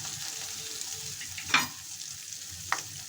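Cumin paste, turmeric, chili powder and green chilies fry in oil for a chapila fish and brinjal curry. The soft, constant sizzle is broken by two sharp stirring scrapes.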